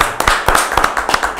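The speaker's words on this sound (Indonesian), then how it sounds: "Oke ya, kita tepuk tangan dulu." A few people in an Indonesian studio clap their hands in a loose, uneven rhythm of distinct, fairly close claps lasting under two seconds, with no talking.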